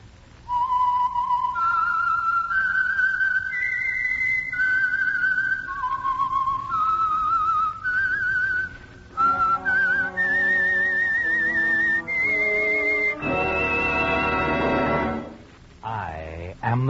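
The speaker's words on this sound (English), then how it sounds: "the signal to listen for is this whistle that identifies the Signal Oil program" A clear, steady whistled theme melody from the radio program The Whistler, sustained notes stepping up and down, played alone for several phrases before ending on a rising, wavering figure.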